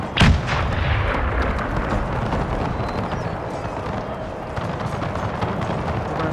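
Artillery fire in the Napoleon Total War video game, set in an 1833 Carlist War battle at Huesca: a sharp booming blast opens, followed by a dense rumbling roar of distant volleys and battle noise.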